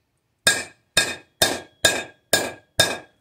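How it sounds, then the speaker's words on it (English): A part being hammered into a MK2 Volkswagen Golf gives six sharp metallic strikes at a steady half-second pace, close and loud, each ringing briefly before dying away, with no voices. "We're gonna go ahead and hammer it in."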